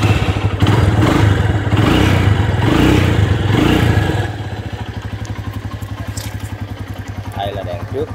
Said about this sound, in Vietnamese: Nổ máy luôn